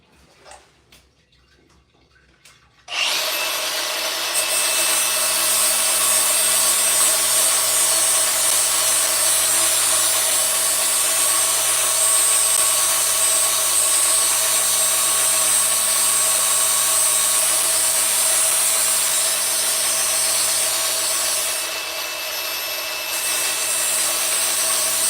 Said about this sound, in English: I think I can do it with just my grinder.